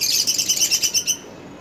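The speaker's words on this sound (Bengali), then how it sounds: "লাভ বার্ড একটি আফ্রিকান টিয়া জাতীয় পাখি" Lovebirds, small African parrot-like birds, chirp in a rapid run of bright repeated tweets for about a second, close and fairly loud, then fall quiet.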